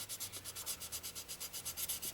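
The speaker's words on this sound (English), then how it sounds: "I'm gonna move to 400 grit to try to get rid of some of these sanding marks" A model car body sanded by hand with 400 grit sandpaper, a rapid rhythmic back-and-forth rasp of about ten strokes, close and fairly soft.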